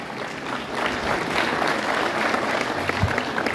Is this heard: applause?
yes